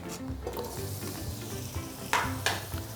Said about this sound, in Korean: 파를 먼저 볶아주는 거예요.